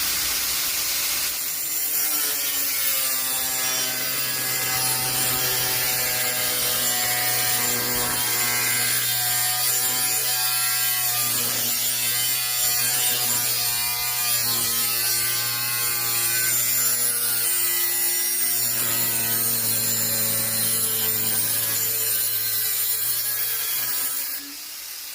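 A new small grinder cutting a piece out of the steel body of a 1966 Corvair Corsa, a loud continuous whining, rasping cut held for over twenty seconds with slight shifts in pitch, close and alone.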